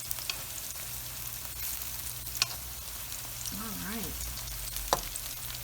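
Onions browning in a pan for homemade chicken keema give a steady, even sizzle throughout, with a couple of faint utensil taps and a brief spoken remark.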